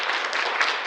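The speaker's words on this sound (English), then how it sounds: "But another big round of applause." Audience applause at a university drama festival, a dense, steady burst of clapping from a full house, loud and continuous through the whole short stretch with no talk over it.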